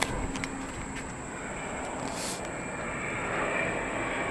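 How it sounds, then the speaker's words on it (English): A private jet flies overhead, a steady broad roar that swells slightly as it passes, distant but loud, with no talking. "there's another private jet flying over"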